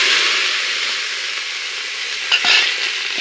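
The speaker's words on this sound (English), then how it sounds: "Now we add the meat." Meat dropped into a hot pan with tomato paste nearby, giving a steady loud sizzle of frying, with a couple of brief utensil stirring scrapes near the end.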